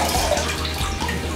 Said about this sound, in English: Squeeze out the water.